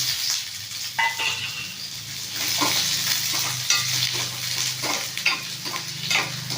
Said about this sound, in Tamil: இப்போது வந்து வெங்காயத்தை போட்டுக்கலாம்.